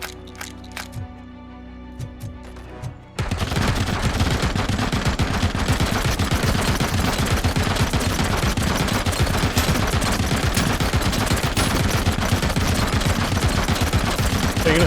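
Sustained rapid gunfire from a heavy pistol and other weapons in the video game RoboCop: Rogue City, a dense, loud, continuous barrage that bursts in after a few seconds of quieter game sounds and music.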